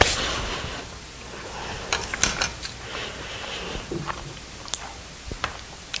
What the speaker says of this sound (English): I just stuck food in my mouth while I'm trying to do a cooking show.